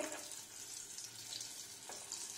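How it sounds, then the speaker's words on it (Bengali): Paneer kofta frying in hot oil gives a steady close bubbling sizzle that carries on without a break and has no voices over it. "এবার প্রথমে আমি একটা ভেজে দেখে নেব তেলটা কেমন গরম হয়েছে।"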